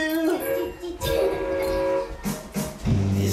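A train sound effect in a children's magic wand song: a whistle-like horn tone and chugging rail noise, fairly loud, with a strong toot near the end and no talking.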